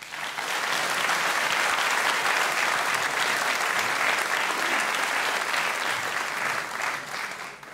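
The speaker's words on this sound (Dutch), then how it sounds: "En uiteraard een groot applaus voor onze jury." Sustained audience applause for the jury at the Dancing Peel en Maas dance show, dense steady clapping for several seconds before tapering off at the end.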